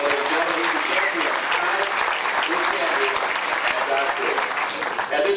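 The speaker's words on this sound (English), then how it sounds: "Give Mike Thurman a nice round of applause, ladies and gentlemen." A fan club banquet audience applauds champion Mike Thurman, with sustained, even clapping from many people throughout and voices faintly audible underneath.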